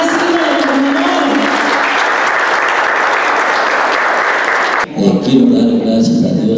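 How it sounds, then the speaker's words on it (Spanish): A Spanish-language gathering bursts into loud, sustained audience applause for a woman named Silvia, with voices mixed in; the clapping cuts off abruptly near the end and gives way to someone talking. "Un aplauso para nuestra madre Silvia de la Mañana."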